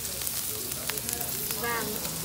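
Meat sizzling on a home electric grill machine, a close, continuous crackling sizzle with small popping spatters and a faint voice murmuring underneath.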